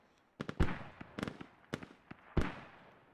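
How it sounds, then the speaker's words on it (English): Mortar shells exploding in a Project Reality-style tactical shooter match, a Conquest round, as a hab is shelled: five or six sharp, booming blasts at irregular intervals over a few seconds, loud and close, with no talking. "Yep, they're mortaring the hab. That is exactly what they're doing."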